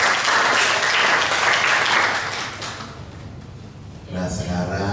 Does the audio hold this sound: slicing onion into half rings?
no